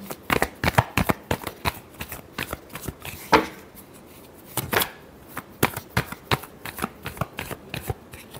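Tarot cards are shuffled by hand in a string of crisp, papery riffles and taps, coming in quick bursts with short pauses between them, close up and moderately loud.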